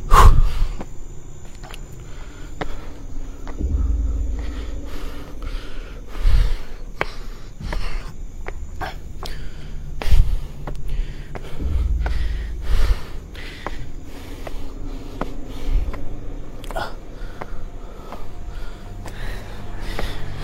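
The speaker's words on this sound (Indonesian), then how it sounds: "Aduh, ngos-ngosan." Heavy, ragged panting and snorting breaths from a hiker out of breath while climbing a mountain, close and loud, repeating in uneven bursts over steady outdoor background.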